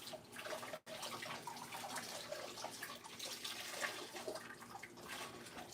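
Hot dye water draining from dyed puppet fleece, a continuous splashing, gurgling pour of liquid that runs steadily throughout with one brief break near the start.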